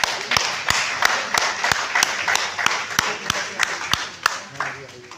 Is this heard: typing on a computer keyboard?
no